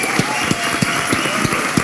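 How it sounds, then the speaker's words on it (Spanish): Applause for doña Mercedes from a crowd at a variety show, a brisk burst of hand clapping under a loud, busy room. "vamos a darle un aplauso a doña Mercedes"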